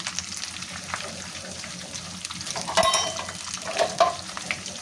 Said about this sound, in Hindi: अब हम आँच बढ़ा लेंगे ताकि हम इसे अच्छे से भून लें